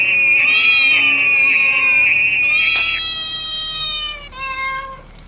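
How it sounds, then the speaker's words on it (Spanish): Cats crying desperately as a narration sound effect: loud, continuous high wailing meows and screeches, several overlapping cries with a long sustained howl, alone without talk. "Los gatos desesperados piden ayuda a gritos"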